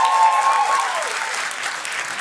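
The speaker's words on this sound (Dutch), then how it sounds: "Geef haar een applaus." An audience claps loudly and continuously for a contestant at a student competition, dense applause filling the whole moment.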